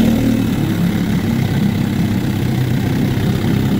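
A 1964 Johnson 9.5hp outboard engine runs at a steady idle, a continuous close, loud mechanical drone with a low rumble that holds throughout without talk.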